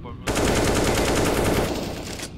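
Automatic gunfire in a shooter video game rattles out as a single sustained, loud, rapid burst lasting about two seconds, close and dominant.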